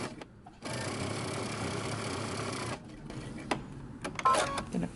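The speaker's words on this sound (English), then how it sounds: "now you can go ahead to your sewing machine and we're going to stitch using 3/8 of an inch seam allowance" A sewing machine stitches a bodice seam, a steady mechanical whirr running about two seconds before stopping, followed by scattered clicks and handling noises.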